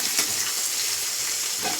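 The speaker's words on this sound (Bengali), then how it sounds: "এই যে মাছ এই যে মাছ ভাজা হচ্ছে এখন" Fish frying in a pan gives a steady, close, crackling sizzle that runs unbroken throughout, with no voices.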